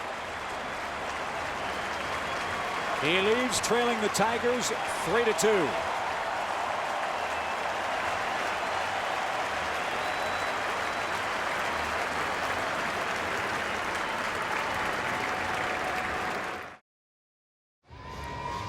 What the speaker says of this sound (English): Big crowd at the Metrodome. will rise and applaud Scott Baker's effort.